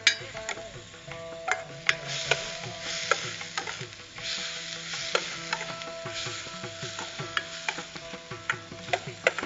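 Leaves being sautéed in a pan over gentle heat, with a soft continuous sizzle and sharp, irregular clicks of a utensil stirring against the pan, close by and without speech.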